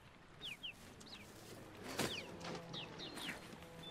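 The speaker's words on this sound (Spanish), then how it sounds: "aquí están los pajaritos que os he dicho" Rare birds in Monster Hunter World give several quick chirps and clucks scattered over a soft ambient background, faint and intermittent, with one sharper burst in the middle.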